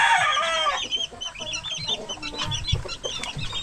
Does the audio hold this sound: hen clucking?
yes